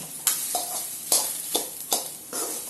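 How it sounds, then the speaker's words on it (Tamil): Okra sautés in a pan for vendakkai poriyal as a spoon stirs it: rhythmic scraping strokes about every half second over a soft, continuous sizzle, with no voices. "சும்மா இப்படி வதக்குனீங்கன்னா உங்களுக்கு அந்த வழவழப்புன்றது இல்லாமல் இருக்கும்"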